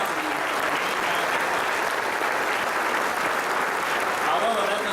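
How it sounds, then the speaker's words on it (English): An audience gives a sustained round of applause at a community program honoring a local figure, a dense, steady wash of many hands clapping filling the whole moment with no pauses. "Please join me in a round of applause for the generosity of Marine Bank."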